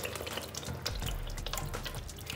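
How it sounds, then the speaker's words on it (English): Chicken broth poured into a pot of Ghanaian jollof rice, a steady close liquid stream with splashy texture running for a couple of seconds, no voices. "Once I'm done, I will add the chicken broth."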